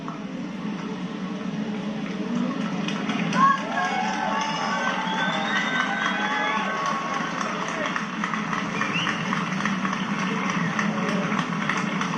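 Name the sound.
crowd cheering at royal funeral procession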